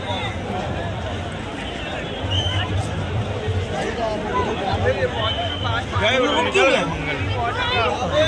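Dense outdoor crowd at the Maha Kumbh in Prayagraj, a steady wash of many voices and footsteps with scattered shouts rising near the end.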